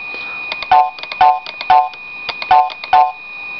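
The Macintosh Sosumi alert on a 1995 Apple PowerBook 190: a short, bright chime-like tone repeats five times at a steady pace, each crisp and clear over a faint steady hum.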